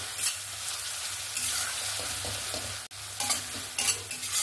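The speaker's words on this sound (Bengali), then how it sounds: "রসুন আর আদা বাটাটা দিয়েও ভালো করে একটু কষিয়ে নেব" Garlic and ginger paste fries in a pan, a moderate sizzle broken by repeated scraping strokes of a stirring spoon, with a momentary dip in the sound partway through.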